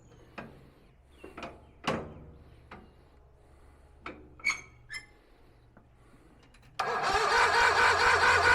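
A Hustler riding mower with its gas just drained is cranked, with several scattered clicks and knocks first, and then the engine catches near the end and settles into a loud, continuous run close by.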